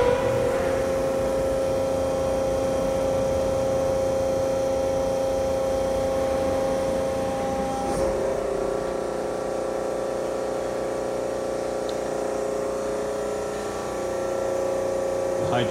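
Hydraulic power unit driving a Therma-Tron-X e-coat system rack machine gives a steady, loud hum and drone throughout, with a slight shift partway through as the machine cycles.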